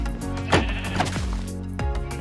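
Light gray dyed sheep on a Minecraft farm bleating, several short wavering bleats overlapping at close range against a steady background hum.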